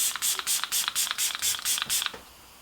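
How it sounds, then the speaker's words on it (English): Catrice Illuminating Prime and Fine Dewy Glow fixing spray mists from a pump bottle in about ten quick, close hissing spritzes in a fast, steady rhythm, ending with a brief soft breath. "this is the Catrice Illuminating Prime and Fine Dewy Glow Fixing Spray"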